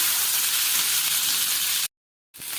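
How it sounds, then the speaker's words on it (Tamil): Onions and tomatoes sizzle steadily in a hot pan while cooking down for a mutton curry, a close, even frying hiss that cuts out briefly to silence before resuming. "இப்போ வெங்காயம் தக்காளி வதங்கிட்டு இருக்கு"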